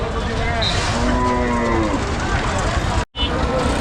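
Loud, drawn-out cow moos close by, several overlapping, over a noisy crowd of talking voices at a busy market.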